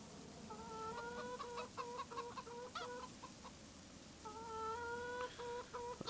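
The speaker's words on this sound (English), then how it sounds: "Those chickens are making some good noise, sounding like chickens." Chickens cluck steadily in Farming Simulator 25, several birds clucking in quick overlapping bursts with a couple of brief pauses, fairly close and clear over a low steady farm ambience.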